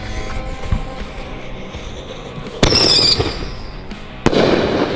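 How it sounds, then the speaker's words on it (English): Fireworks set off outdoors in Wyoming during a motorcycle road trip to Sturgis: two sharp, loud bursts a couple of seconds apart, each with a crackling tail, over quiet background. "Bought fireworks."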